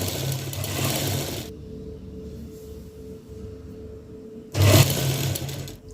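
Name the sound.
sewing machine stitching a folded petticoat seam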